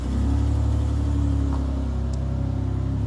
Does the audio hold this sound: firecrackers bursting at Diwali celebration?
no